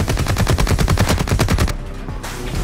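Sustained light machine gun fire in a video game, a rapid even burst of close, loud shots for about a second and a half before easing into a quieter rumbling tail.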